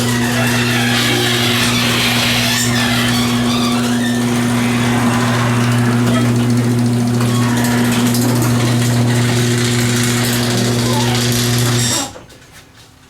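LiftMaster Chamberlain garage door opener with a new gear set running the door down, a loud steady motor hum with rattling chain and mechanical clatter that cuts off abruptly near the end.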